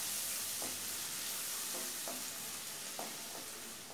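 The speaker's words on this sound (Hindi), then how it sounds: "और इसको भून लेंगे 2 मिनट।" Carrots and bell peppers stir-frying in a pan for a sweet corn vegetable soup, giving a steady close sizzle with a few soft scrapes of stirring and no talk.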